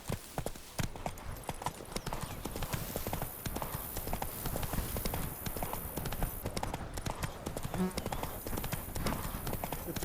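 Roach the horse trots in The Witcher 3, rhythmic hollow clip-clop hoofbeats repeating steadily and close, with game ambience and occasional voices over the hooves.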